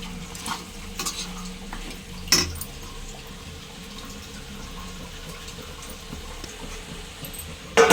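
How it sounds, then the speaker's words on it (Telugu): Mutton head curry with turmeric stirs and cooks in a pot, with a soft, steady sizzle and bubbling close by. A few brief scraping knocks sound over it, and no one speaks. "పసుపు వేసుకుని మిక్స్ చేసుకుని మగ్గించుకున్నాము"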